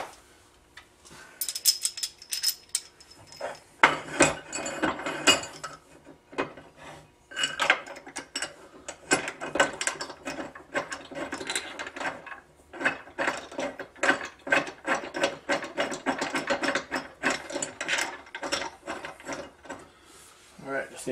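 A hand ratchet tightening bolts while a Minn Kota Talon shallow-water anchor is installed, giving repeated fast clicking strokes in bursts with short pauses, fairly close and fairly quiet.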